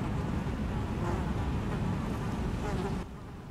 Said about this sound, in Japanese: あのハエの音うるさいんだが